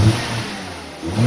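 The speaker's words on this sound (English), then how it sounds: "All we need to do now is hit the key, see if it starts." The 2.3-liter engine of a 2004 Mazda 3 revs close and loud, a throaty rise that eases off briefly before climbing again at the end.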